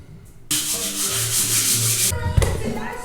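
A wall being sanded during apartment renovation after glue removal and hole filling, a steady broad abrasive rasping for about a second and a half, fairly close and loud, then fading into quieter handling scrapes.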